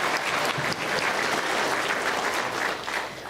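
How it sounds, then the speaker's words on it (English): A crowd at a high school commencement applauds students, a short, continuous wash of many hands clapping at even loudness throughout. "Let's give these students another round of applause."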